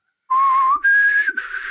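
A voice whistles three short sustained notes, the second higher, imitating a bosun's pipe calling people aboard. The whistling is close, clear and alone.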